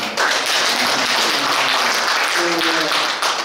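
An audience applauds at an exhibition ceremony, with dense, steady clapping that fills the whole moment and eases slightly near the end.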